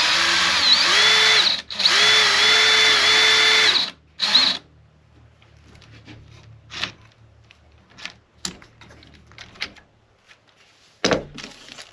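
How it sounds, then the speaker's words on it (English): A power drill spins a smooth pin down into the wood of a handmade parlor guitar, giving two long steady whirring runs and a short burst, followed by quieter workshop clatter and taps. "if we use the drill to drive it down there, it will just kind of melt its way into the wood."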